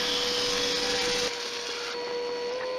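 A circular saw or bandsaw rips through figured wood for a coffee table, a steady loud whining blade tone over broadband cutting noise that drops slightly partway through and continues to the end.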